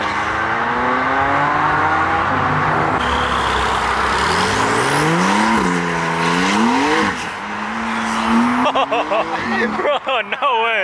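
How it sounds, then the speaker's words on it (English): A car, likely a Lamborghini, slides out at an exotic car show with a long, loud tire squeal that bends and wavers over several seconds, followed by engine revving and crowd voices toward the end. "This man went sliding out."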